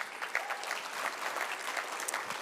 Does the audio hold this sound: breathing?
no